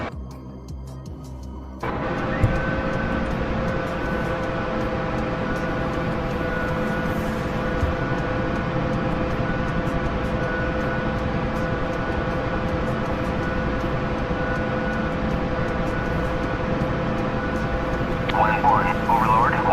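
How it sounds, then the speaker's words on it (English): A helicopter engine warms up in a video game, starting abruptly, then holding a steady loud turbine whine and a rotor drone that continue without a break, with a voice speaking briefly over it near the end. "let me do a quick little helicopter warm-up"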